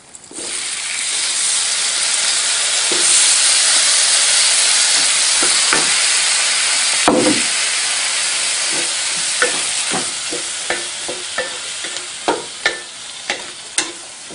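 Coriander powder fries in a hot pan with a loud, continuous sizzling hiss, broken toward the end by a series of sharp stirring scrapes and taps, with no voices.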